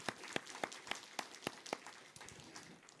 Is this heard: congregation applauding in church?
yes